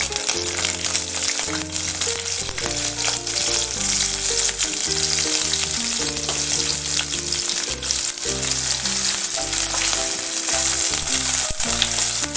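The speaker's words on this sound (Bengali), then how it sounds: "এবার আমি পেঁয়াজটা দিয়ে দেবো। তেলটা গরম হয়ে গেছে।" Onion fries in hot oil for a chicken stew, a loud, dense, continuous sizzle heard up close, with a tonal background underneath and no talking.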